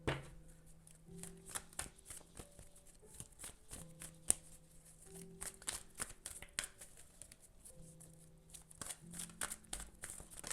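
Archetype cards shuffled by hand in a quiet room, a steady run of soft riffling and flicking bursts with occasional sharper snaps, close and clear, with no talk.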